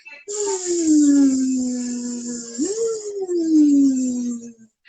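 A human voice imitates a mosquito's long buzzing whine with two drawn-out, gliding hummed notes and a bright hiss on top, close and fairly loud.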